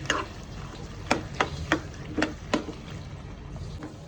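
A spoon stirs soybean masala seasoned with pepper in a pan, knocking against the metal in about half a dozen crisp, irregular clicks over a soft background hiss.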